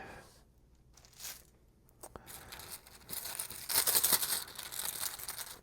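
Chaos bag tokens being shuffled and drawn in the Arkham Horror card game: soft rustling of the cloth bag and clicking tokens, growing busier and louder toward the end, with no talk over it.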